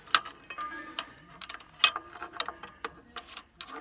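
Metallic ratchet clicks and clanks as a rear wheel stud is tightened on a Ford 801 tractor, a series of irregular close, sharp ticks and short bursts with quiet gaps between them.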